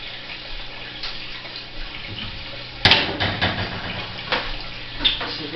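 Water runs into a 220 aquarium, a steady rushing stream with a louder splashing surge midway and fluctuating gushes afterward, close and alone.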